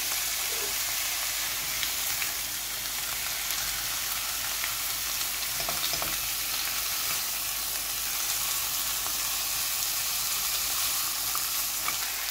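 Beef shank searing in a hot pan, a steady, loud, dense sizzle and crackle of frying fat that carries on unbroken throughout, with no voices.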